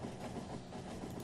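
Oil train rolling along in the game Factorio, a steady, faint rumble of fluid wagons on rails with no distinct beats.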